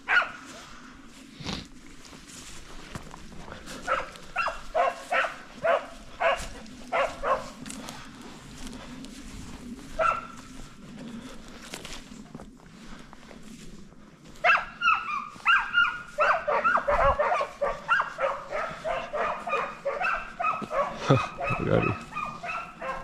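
Serbian tricolour hounds out hunting give a steady run of barks and yips, some bunched in quick volleys, rising louder and busier toward the end over a continuous outdoor background.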